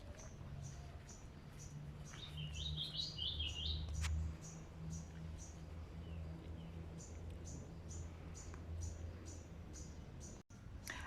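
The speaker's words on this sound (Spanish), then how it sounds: "como siempre, los pajaritos acompañando nuestro camino" Birds chirp along a nature path in Manizales, Colombia, with repeated short tweets and a brief trilling song over a faint, low outdoor hum.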